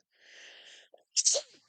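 A single person sneezes sharply and loudly after a stretch of quieter speech-like voicing, with a brief breathy tail as the burst fades.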